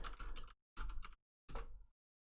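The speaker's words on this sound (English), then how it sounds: "You'll listen to my typing ASMR" Bursts of typing on a computer keyboard, three short close-up runs of quick key clicks with silent gaps between them, quiet and with no voice.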